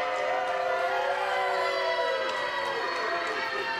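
Wrestling arena crowd cheers loudly for a popular wrestler, a continuous roar of voices and shouts with whistling, tonal yells layered on top, sustained throughout.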